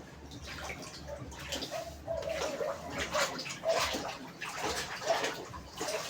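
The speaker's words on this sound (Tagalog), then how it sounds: "puro tubig sa paligid, umuulan, humahangin, lubog ang buong kapaligiran" Water splashing and trickling around a flooded neighborhood in Hagonoy during rain, wind and high tide, a steady wet wash with irregular sloshing surges, fairly close, no talk.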